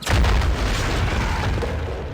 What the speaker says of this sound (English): The scripted sound effects were pretty spectacular, especially any time an explosion happened.